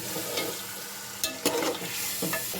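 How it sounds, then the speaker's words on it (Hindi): Goat trotters (paya) are stirred into thick frying masala in a heavy pot, with a steady sizzle and a few louder scraping stirs near the end. "अब मैं इसको डालती हूँ मिसाले के अंदर पायों को"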